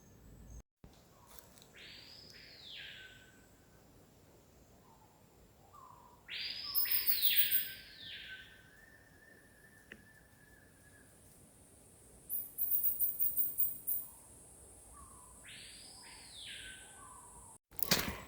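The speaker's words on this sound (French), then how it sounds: "avec le son des oiseaux là, qui m'accompagnent" Forest bird songs sound intermittently in a calm outdoor setting in the French Guiana forest, a few distinct calls and trills spread out with quiet stretches between them.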